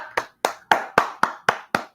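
Seven sharp hand claps in a steady, evenly spaced rhythm, loud and close, each one ringing briefly before the next.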